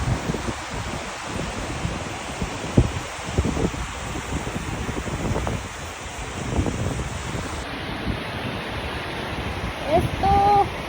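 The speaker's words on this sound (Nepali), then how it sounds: "नदी आएको" A mountain river on the Langtang trek in Nepal rushes steadily beneath a bridge, a loud broadband roar mixed with gusts of wind buffeting the microphone.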